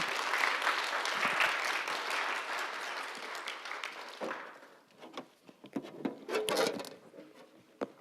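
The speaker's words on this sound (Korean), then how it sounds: "여러분 좀 아낌없이 우리 감독님 나오실 때 뜨거운 박수로 좀 맞으셨으면" An indoor church district meeting: the audience applauds warmly as the bishop comes out. The dense clapping fades after a few seconds into scattered claps and rustling.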